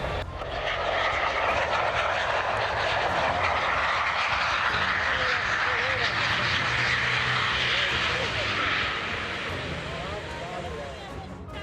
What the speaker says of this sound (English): The Boeing craft landed on its belly, with a few sparks flying as it hit the runway covered with flame-retardant foam